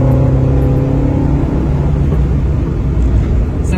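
A 1991 Peugeot 205 Rallye with carburettors, its engine revving hard toward the red zone in a loud, sustained, droning roar heard from inside the car.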